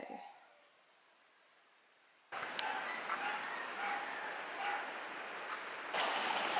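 Dogs next door bark repeatedly in short yips and bow-wows, moderately distant, over steady outdoor background noise after a quiet opening stretch.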